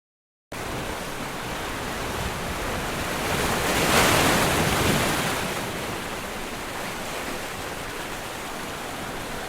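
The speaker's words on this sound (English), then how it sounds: "So here it is the view of Miramar Beach." Surf at Miramar Beach in North Goa rolls in as a steady broadband wash, swelling louder midway as a wave breaks, then settling back into continuous seaside noise with no voices.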